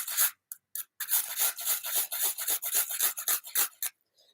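Garlic is rubbed against a sharp cheese grater in quick, rhythmic rasping strokes. The scrapes come in a close run of about a dozen, with brief pauses near the start and a sudden stop at the end.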